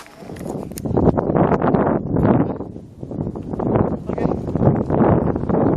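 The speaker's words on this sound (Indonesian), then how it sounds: "Sudah mulai berangin spotnya." Gusts of wind at a riverside in Aceh Besar buffet the microphone in uneven surges, loud and rushing, with a brief lull partway through.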